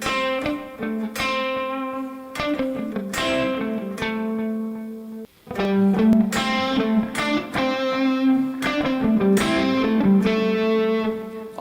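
Palm-muted electric guitar through a distorted amp tone, played as short choppy notes and chugging phrases with brief pauses between them, fairly close and with no voices.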